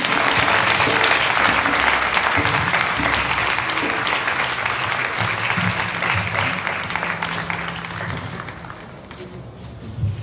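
A church congregation applauds and cheers to praise the Lord, a loud, sustained wash of clapping that fades slightly toward the end.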